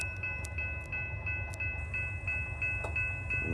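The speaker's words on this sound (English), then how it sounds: "It might be a vehicle train." A BNSF freight train passes westbound, its steady low rumble and wheel noise continuing throughout with faint rhythmic clicks of the cars, fairly close and alone.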